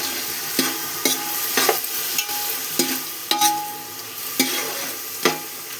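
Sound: stirring and frying masala in a pan

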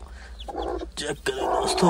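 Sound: newly hatched chicks and chickens

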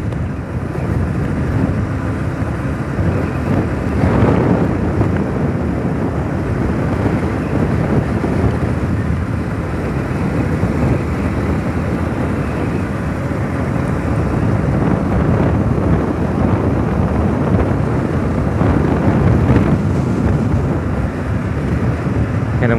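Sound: strong wind suddenly blowing

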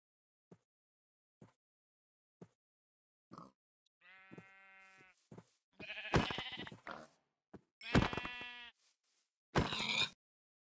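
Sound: sheep bleating in Minecraft video game

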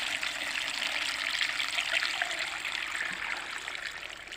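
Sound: pouring liquid

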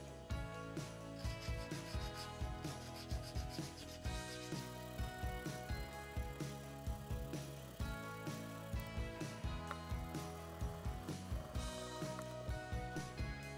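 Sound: sharpening nipper blades with a diamond file

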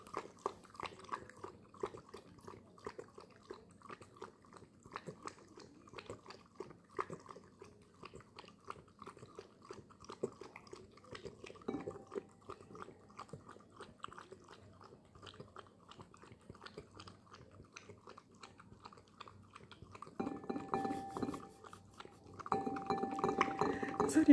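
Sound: dog drinking broth

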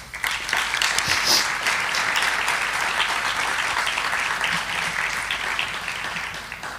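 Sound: audience applause at congress inauguration

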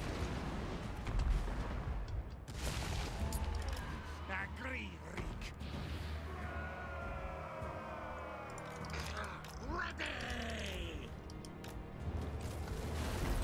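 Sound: artillery fire in a video game

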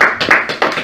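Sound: congregation applauding in church

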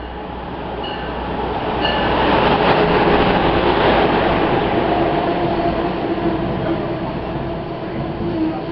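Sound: Amtrak regional train with Bombardier HHP-8 locomotive

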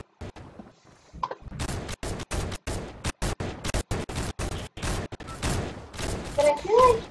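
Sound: thermal weapon gunfire from the video game Fortnite

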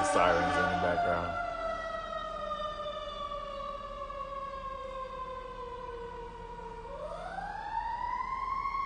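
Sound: sirens in the background

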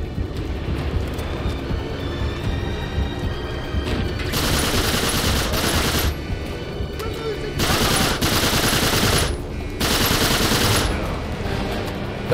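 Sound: machine gun fire in the video game Uncharted 3

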